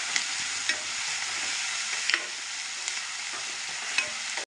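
Curry leaves sizzle and crackle in hot oil for a tomato curry, a steady close frying hiss with small pops throughout, with no talking.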